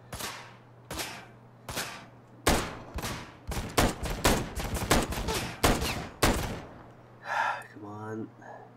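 Gunfire in the Ride to Hell: Retribution video game: a string of sharp, loud shots, sparse at first and then in a rapid uneven volley, with a low steady hum beneath and a brief voice near the end.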